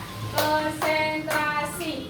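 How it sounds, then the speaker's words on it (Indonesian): Rhythmic hand clapping for a concentration clapping game in a classroom lesson, with three or four sharp, evenly spaced claps ringing close by, while a voice speaks or sings along between them. "permainannya adalah tepuk konsentrasi. Contohnya seperti ini ya"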